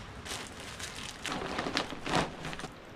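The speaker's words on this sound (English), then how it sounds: "I am ready to get out of the rain" Rain falls steadily in an Alaskan rainforest, a soft continuous patter with a few louder drips and splashes nearby, fairly quiet overall.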